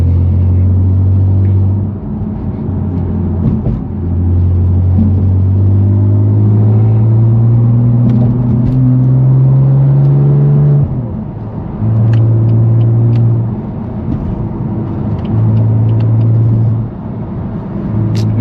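A BMW F80 M3 Competition with a straight-pipe exhaust roars loudly on a city drive. The deep engine drone rises and falls through repeated revs and gear changes, with no talk over it.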